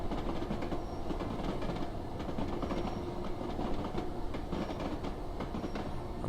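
A Class 415 electric train passes on the South London Network in Train Simulator 2016, with a continuous rolling rumble and repeated clickety-clack of wheels over rail joints, steady and moderately close.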